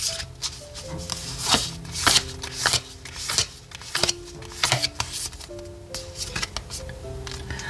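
Oracle cards being shuffled by hand in a tarot reading, giving close, continuous papery riffles and slaps in an uneven rhythm, fairly loud and alone without talk.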